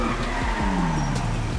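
A car engine drones steadily with a hollow, echoing roar in a GTA 5 tunnel, its pitch sliding down as if passing through the enclosed space; no talking.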